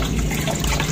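Cool mountain-fed water from the Pangururan hot spring on Samosir rushes and gushes steadily, a dense, close, continuous wash with no pauses.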